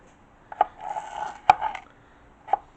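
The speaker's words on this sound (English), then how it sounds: "I'm just going to slice them down" Mini cucumbers being sliced with a knife on a cutting board: three distinct close thuds spaced about a second apart, with faint rubbing between them and no talking.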